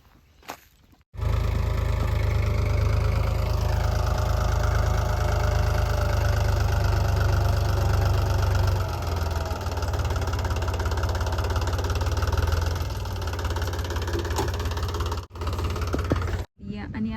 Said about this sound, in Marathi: इकडं ट्रॅक्टर पण आलेला आहे